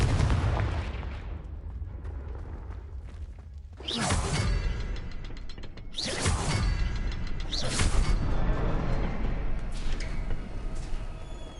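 Confringo spell blasts in the Hogwarts Legacy video game, loud whooshing fiery bursts at about four and six seconds over a steady rumbling mix of game effects.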